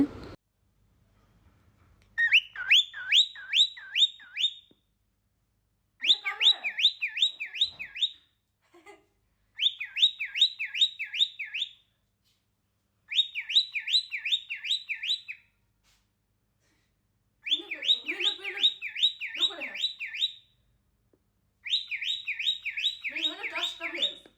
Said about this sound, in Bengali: সেটা চিটকা চেঁচামেচি করা শুরু করে দিয়েছে শুনুন এই যে সে ডাকতেছে